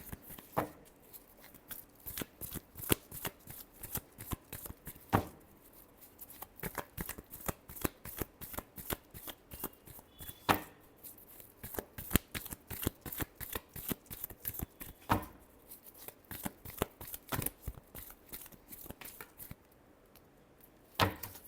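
Tarot cards are shuffled repeatedly by hand in quick, crisp riffling bursts with brief pauses between, quiet and close with no talk.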